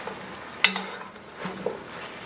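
Chicken and breadfruit in a pot get a quick stir, with a sharp scrape of a utensil against the pot, a low simmering sizzle underneath and a couple of softer clinks after.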